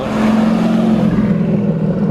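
Chevrolet C5 Corvette with a 5.7-liter V8 heard from inside while driving, a steady low engine drone with a prominent deep hum, even and sustained throughout.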